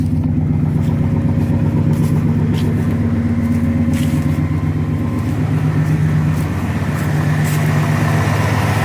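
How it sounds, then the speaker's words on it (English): A GMC Yukon idles steadily after a cold start with a continuous low engine drone, joined by a rising whoosh as the fan clutch engages, close and alone without talk. "I think the fan clutch just engaged right now. Yeah, I hear that sound."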